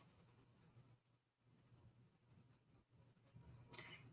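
A pen writes a name on a sheet of paper: faint, soft scratchy strokes with brief pauses, close and quiet, ending with a small sharp tap.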